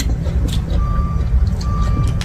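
Two drawn-out electronic beeps come from outside, faint beneath a heavy, steady low rumble.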